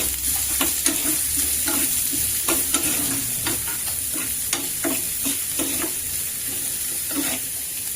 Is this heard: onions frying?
yes